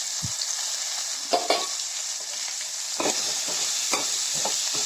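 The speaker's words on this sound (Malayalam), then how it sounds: "വലിയ ഒരു സവോളയും രണ്ട് പച്ചമുളകും കൂടെ കീറിയിട്ടിട്ടുണ്ട് അതും നമുക്കൊന്ന് വഴറ്റിയെടുക്കാം" Sliced onion and green chillies sauté in a hot pan for a pork curry, a steady bright sizzle running throughout with several sharp stirring scrapes and clatters at irregular intervals, close and fairly loud, no voices.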